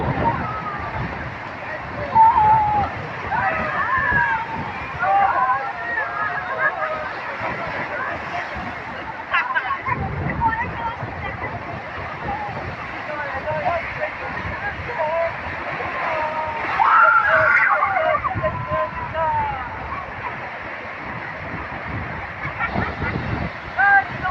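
Rough sea waves at Digha beach slosh and wash in a continuous roar, with excited voices chattering and exclaiming over the surf throughout.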